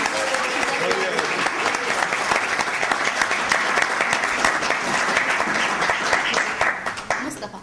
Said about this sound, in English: a big round of applause for Suad for organising.